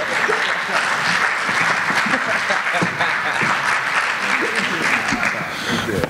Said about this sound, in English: we want to give a round of applause for that